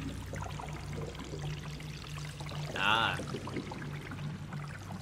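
Running water in Hide Time, a Poppy Playtime clone video game: a brief pouring burst of water rises out of a faint low game ambience, with a short exclamation from a player.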